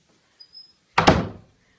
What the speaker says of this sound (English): and I want to shut my door.